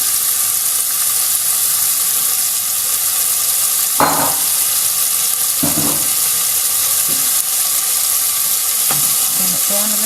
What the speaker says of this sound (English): Pop the bacon in.